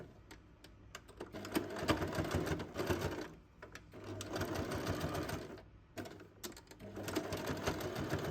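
Domestic sewing machine stitching the pinned seams of a fabric knitting needle case, running in several bursts of rapid whirring with short pauses between them, close and fairly quiet.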